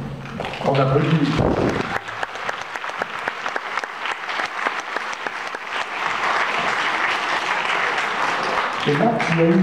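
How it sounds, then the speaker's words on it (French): An audience bursts into sustained applause at a live stage event in Pont-à-Mousson, a dense continuous clapping that lasts several seconds, with a voice speaking just before and just after. "On applaudit."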